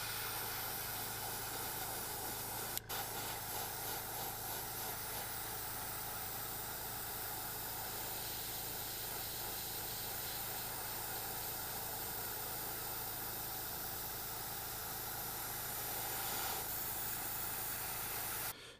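Airbrush spraying black paint at low pressure onto a crankbait body, a steady close hiss that runs unbroken with no talk and one brief click early on.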